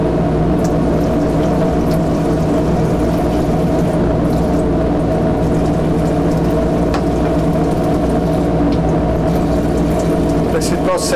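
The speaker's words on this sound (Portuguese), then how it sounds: "então, vou usar água corrente." Running tap water streams steadily over a hot laboratory flask being cooled after a heating bath, a loud, continuous rushing flow with no pauses for the whole span.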